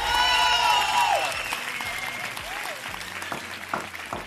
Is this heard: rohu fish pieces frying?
no